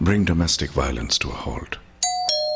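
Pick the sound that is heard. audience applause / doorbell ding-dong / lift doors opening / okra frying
doorbell ding-dong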